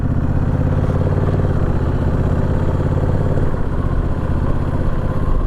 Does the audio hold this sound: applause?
no